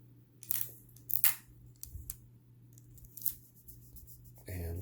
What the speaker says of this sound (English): take some tape and tape on both sides